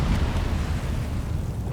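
An Incendio fire spell in Hogwarts Legacy roars out as a sustained low whooshing rumble of flame, loud and steady for nearly two seconds.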